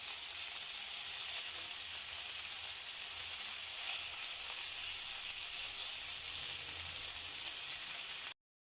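Beef seekh kebabs sizzle steadily on a griddle over very low heat, a continuous soft frying hiss with no voices, ending abruptly.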